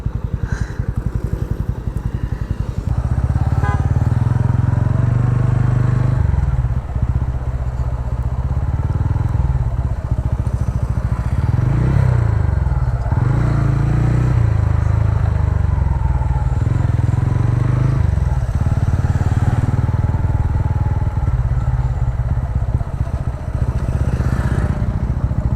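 A TVS Ronin 225 motorcycle rides along a road on a detour, its engine droning steadily and loudly for the whole stretch, with a rough, rumbling note and occasional shifts in pitch.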